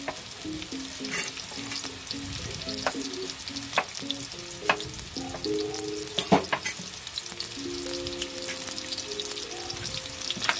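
Beef stew meat browning in a pan, a dense crackling sizzle with frequent stirring scrapes and clinks, close and steady throughout, with faint tonal music underneath.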